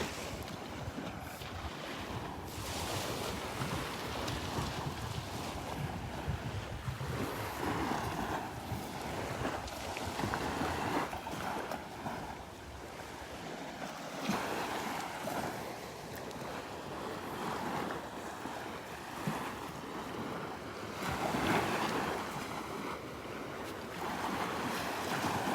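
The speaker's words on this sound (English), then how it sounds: "I actually walked down here to the beach this morning." Surf and gusting wind fill a beach in North Naples, Florida, a continuous wash of breaking waves mixed with heavy wind buffeting the microphone, loud and unbroken with no talk.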